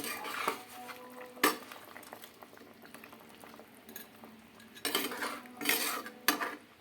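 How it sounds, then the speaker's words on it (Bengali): Tangra fish curry with potato and pointed gourd bubbling in a pot while a metal ladle stirs and knocks against the sides, with several sharp clanks over a soft simmer. The sound is close and there is no speech. "এবার একটু ভালো করে নাড়িয়ে চাড়িয়ে দেবো।"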